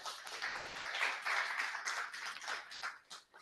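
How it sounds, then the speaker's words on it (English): Brief, fairly faint round of audience applause for the candidates at a by-election debate, steady clapping from a modest crowd that tapers off at the end. "Can we give them a round of applause?"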